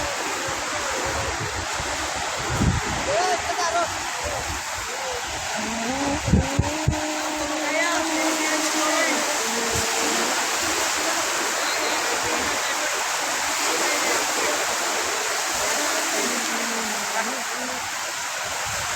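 Sea water at Saint Martin's Island surges and churns in a constant loud roar, with a voice calling out briefly and a few knocks partway through.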